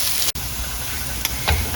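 Corn patties shallow frying in oil in a pan, giving a steady close sizzle and hiss, with a brief drop in the sound and a few sharper crackles and spits near the end.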